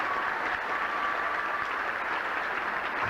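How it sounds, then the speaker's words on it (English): Audience applause at a 1997 high school graduation ceremony, a dense, even wash of clapping from a large crowd that holds steady for the whole stretch, heard alone and from a little distance. "Give them a rounding round of applause."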